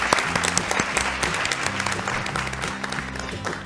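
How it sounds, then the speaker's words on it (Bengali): A studio audience at a televised family game show claps together in sustained, even applause, fairly close and steady, with a faint voice beneath. "দেবজিৎ, সেরা পরিবারের স্বাগত, সবাই জোরে হাততালি।"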